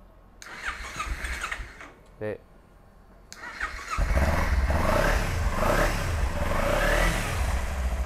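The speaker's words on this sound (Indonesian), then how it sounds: "tuh suaranya kayak gitu mesin enak masih segel" A Yamaha motorcycle engine cranks and fires up, then settles into a steady, throaty idle close by, with a person speaking briefly before it starts.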